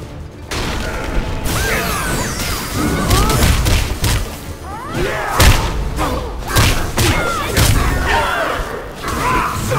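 Bomb explosions and heavy thuds crash through combat in the video game Blade & Soul, loud and dense over a steady roar of game sound, with repeated booming impacts and no clear talking.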